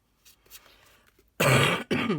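A person with a cold coughs twice, close and loud, a harsh burst followed by a shorter second one after quiet rustling.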